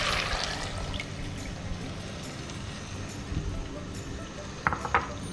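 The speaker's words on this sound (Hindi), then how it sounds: "अब इसमें जाएगा ये चिकन स्टॉक।" Chicken stock poured into a pot while cooking mutton zafrani pulao, a continuous liquid splash and gurgle ending in a couple of light metallic clinks, close by.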